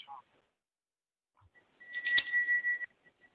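A bell rung over a teleconference line during a court hearing to mark counsel's time expiring, heard as a faint, thin ringing tone lasting about a second with a brief click at its start, following a short quiet stretch.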